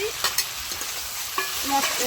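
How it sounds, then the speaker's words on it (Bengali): Fried eggplant pieces stirred into a fish and potato curry in a pan, giving a steady close sizzle broken by a few sharp scrapes of the spoon. "এবার আমি বেগুন ভাজাগুলো দিয়ে দিচ্ছি।"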